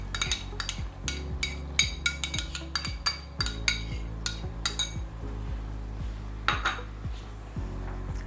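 Coconut milk and yogurt being stirred into spices in a metal pot, a run of sharp clinks and scrapes from a utensil against the pot, irregular and close, alone without talk.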